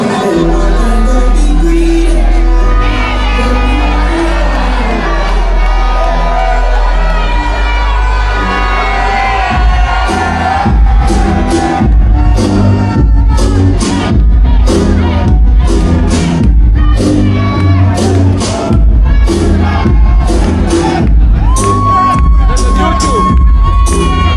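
Concert crowd at a reggae and dancehall show cheering, whooping and shouting continuously and loudly, with music and a voice over a PA mixed in and scattered sharp bursts of noise.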